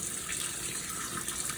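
Cold water running from a kitchen tap while cooking ramen, a steady close hiss and splash with no break and no talk.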